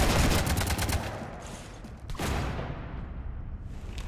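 Rapid bursts of gunfire from a Mass Effect 3 battle, aimed at a ship: a loud, dense volley at the start that thins to scattered crackling shots, with a brief lull before another burst.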